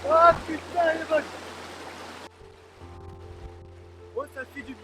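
An outdoor shower splashes at a lookout above a canyon with a pool behind, a steady broadband spray under a voice for about two seconds before it stops and leaves a quieter background.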